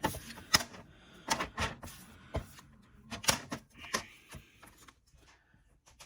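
Excess paper is trimmed off a handmade Halloween card, producing a close series of sharp cutting clicks and crisp paper snaps in an uneven rhythm, alone without speech.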